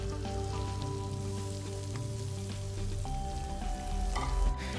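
Chopped onion dropped into hot oil, a steady close frying sizzle with soft crackles and faint stirring, continuous and even, under quiet background music with no talking.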